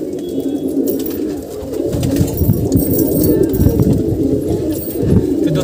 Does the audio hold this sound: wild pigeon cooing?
yes